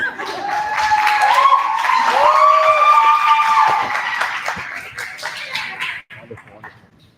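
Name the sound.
audience applause and clapping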